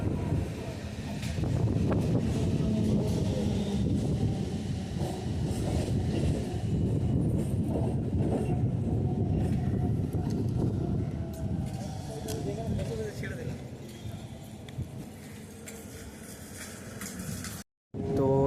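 A local train pulls away from a small station platform, its loud rumbling rolling noise and wind buffeting filling the whole stretch up close, with speech over the top.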